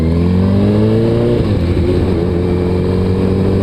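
A Suzuki Hayabusa motorcycle engine revs steadily, then rises in pitch as it accelerates mid-clip before settling into a sustained drone, close and loud with no talking.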